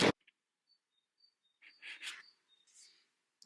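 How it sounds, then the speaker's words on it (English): A bird gives thin, high-pitched calls in short, scattered chirps against near silence, with a few faint rustles between them. "Seriously, that bird is very high pitch."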